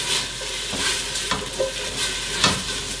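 Sausage frying in a pan with onions and garlic, a loud close continuous sizzle with bursts of stirring and spatula scrapes.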